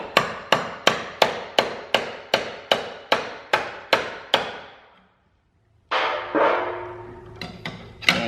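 Repeated metal-on-metal hammering on a screwdriver driving out the door hinge pins of a GM G-body car, about a dozen sharp evenly spaced strikes, a short pause, then a few more irregular taps.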